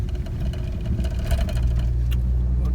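Car engine driving along a hill road near Ooty, a steady low drone with faint road noise and slight variations in pitch, while no one speaks.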